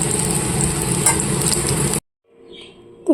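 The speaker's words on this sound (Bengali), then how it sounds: "তাই জন্যই একটু অল্প তেলেই ভাজছি" Drumstick flower fritters frying in a little oil, a steady close sizzle that cuts off abruptly partway, leaving near silence with faint clatter.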